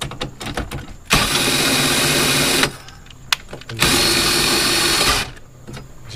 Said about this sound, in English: we gotta put the drill on it